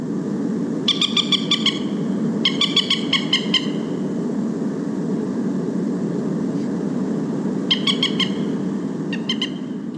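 A moorhen gives bursts of rapid, repeated sharp 'kek, kek, kek' clucking calls in several short runs over a steady low background rumble.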